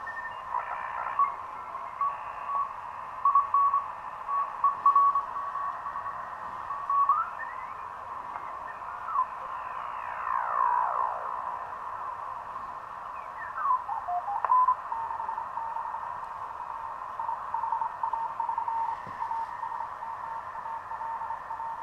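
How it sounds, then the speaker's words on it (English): A homebrew SSB transceiver receiving on the low end of the 40 m CW band while being tuned in small steps, giving steady static with sweeping whistling tones and brief beeping Morse carriers, alone without talk. "We're tuning at the low end of 40 meters in the CW band, in 100 hertz increments."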